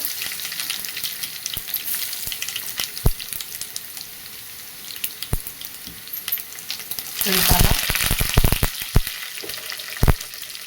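Mustard seeds and a little garlic crackle in hot oil for a ridge gourd dish, a close, continuous sizzle with sharp pops scattered throughout and a louder burst of frying partway through.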